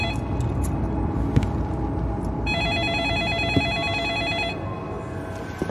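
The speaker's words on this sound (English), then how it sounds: "There was a desk there and the phone started ringing." A telephone rings on a desk in a closed office at night, its electronic bell trilling steadily for a few seconds over a low rumbling background hum.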